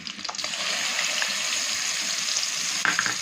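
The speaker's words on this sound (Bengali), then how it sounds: "এটা কিন্তু আমি ভালোভাবে একটু ভেজে নিচ্ছি" Turmeric and chilli powder tipped into hot oil with already-fried black cumin, for a mustard hilsa dish: a bright, steady sizzle with faint crackles and a scraping stir, close and continuous with no talking.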